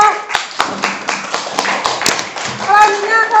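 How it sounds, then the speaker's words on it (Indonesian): Scattered classroom clapping for a presenting student group, individual sharp claps in an uneven rhythm with children's voices chattering over them toward the end. "Tepuk tangan untuk kelompok"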